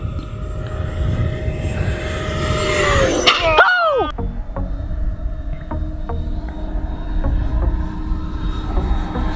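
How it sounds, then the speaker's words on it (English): An RC jet makes a full-throttle pass, its loud turbine whine rising and then sweeping downward in pitch as it roars past close by, leaving a rumbling wind-blown roar afterward with no speech. "one more full throttle pass, then we're gonna go into a climb and a snap"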